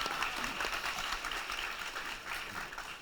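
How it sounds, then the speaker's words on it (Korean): Audience applause at a talk concert, a broad, fairly quiet, even patter of many hands clapping at once from a distance, sustained with no break. "박수 쳐도 좋을 것 같은데요."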